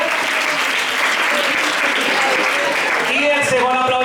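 An audience at a school poetry recital claps in dense, steady applause that fills the whole stretch, with a few voices rising near the end.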